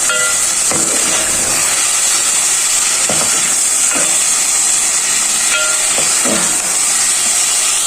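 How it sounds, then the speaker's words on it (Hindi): Minced meat keema sizzles and fries with spices in a pan, a loud steady hiss with scattered crackles and occasional louder spatters throughout, no voices. "कीमे को भूनते हुए मुझे यहाँ पे 5 मिनट हो गए हैं।"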